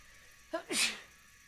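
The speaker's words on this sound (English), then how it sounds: "That was a real sneeze, which is even creepier." A single sharp sneeze, close and fairly loud, with a brief intake before the burst, then quiet.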